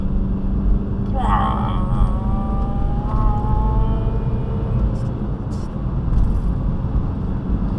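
A car engine drones steadily while driving in Forza Horizon 4, with a couple of rising revs partway through and a voice talking over it throughout.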